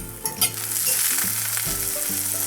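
A slice of toast gets flipped in an oiled carbon steel pan. A couple of soft knocks come first, then a close, steady sizzle continues over a low, humming drone.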